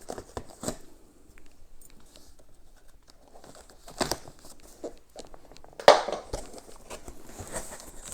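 Packaging of a Neewer fluorescent lighting kit being opened, with scattered rustling, crinkling and tearing handling noises and a sharper rip or snap near the end, close and fairly quiet with no talking.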